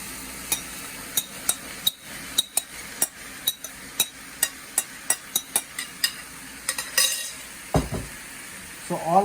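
Mie goreng noodles, vegetables and chili sauce stir-fried in a pan: a steady sizzle under a regular rhythm of spatula scrapes and knocks against the pan, close and fairly loud, with a clatter near the end.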